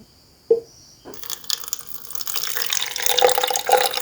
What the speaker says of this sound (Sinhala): ඊට පස්සේ උණු වතුර දාන්න මේකට.